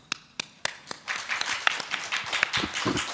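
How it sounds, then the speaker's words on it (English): Warm applause for the panelists at the close of the Seoul Defense Dialogue 2020 virtual seminar session, opening with a few sharp, separate claps before swelling into steady, dense clapping from a group. "please join me thanking to the panelists for their contribution with a warm applause"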